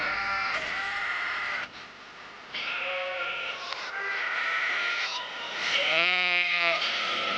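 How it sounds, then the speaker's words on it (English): Sheep bleat in the World of Warcraft video game, several wavering, nasal bleats in succession over a constant background hum, the last one loudest and most quavering. "The sheep."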